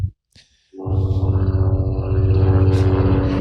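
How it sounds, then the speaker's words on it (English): Helicopter flying overhead, a loud steady rotor drone with strong low harmonic hum that starts abruptly after a brief quiet and holds close and dominant throughout. "there's a helicopter going overhead"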